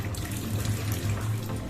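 Water runs steadily from a tap with a faucet nozzle and aerator, a continuous close splashing flow that stays even throughout the brief moment.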